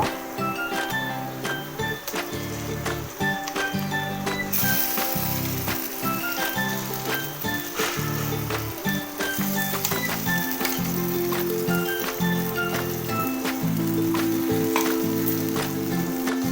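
Mashed pointed gourd bhorta sizzles and fries in a pan, a steady close hiss broken by scraping and clinking of a spatula stirring the mash, continuous throughout with no talking.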